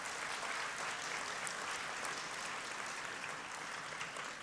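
Graduates at a SUNY Westchester Community College spring commencement ceremony applaud to show they plan to transfer, a steady, distant wash of clapping from a large crowd that holds evenly and fairly faintly throughout.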